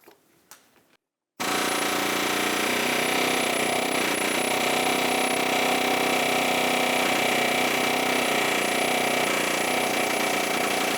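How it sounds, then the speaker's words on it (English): An air hammer drives out a front lower ball joint on a 2008-2012 Honda Accord, starting after a brief quiet moment and then running as a loud, continuous rapid hammering for the rest of the span. "I'm going to use the air hammer and drive it up"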